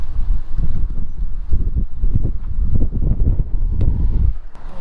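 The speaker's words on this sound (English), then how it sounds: "Real windy." Strong gusty wind on the Alaska Highway near Marsh Lake, Yukon, buffets the microphone with loud, uneven rumbling blasts that rise and fall for several seconds before easing at the end.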